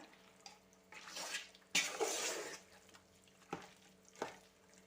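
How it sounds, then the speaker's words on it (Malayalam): Cooked tapioca (kappa) and meat being mixed together in a pot, soft wet stirring and scraping strokes in irregular bursts, close and fairly quiet. "ഇനി നമുക്കിത് നല്ലപോലെ മിക്സ് ചെയ്തെടുക്കണം"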